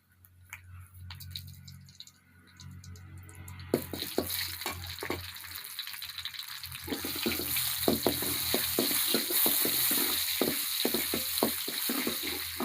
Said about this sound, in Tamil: கடுகு நல்லா பொரிஞ்சிட்ருக்கு